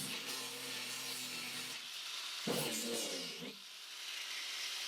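An angle grinder fitted with a flap disc grinds against a seal on a BMW E36 325i, giving a steady abrasive rasp. A motor hum runs underneath at first, and the grinding swells roughly midway before settling back.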